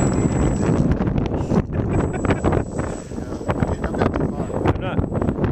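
Strong wind buffets the microphone in gusty roaring bursts at a T-28 model plane outing, with people talking over the constant rush.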